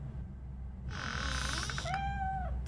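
A cat meows in the video game RoboCop: Rogue City, a single drawn-out, wavering meow that rises and then falls over a low background hum, with no talking.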